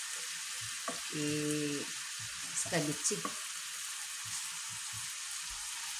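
Tilapia frying in oil in a pan for Filipino escabeche, a steady broadband sizzle running throughout at moderate level, with a person speaking briefly over it and a few clinks of utensils.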